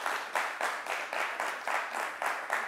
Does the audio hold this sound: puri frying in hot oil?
no